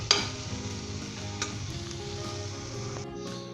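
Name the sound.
stirring white brinjal masala with coriander in a pan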